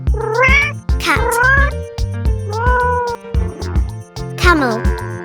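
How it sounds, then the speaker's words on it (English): A cat meows loudly and repeatedly up close, drawn-out whining calls rising and falling in pitch, several in a row over a background of steady musical tones. "Cat."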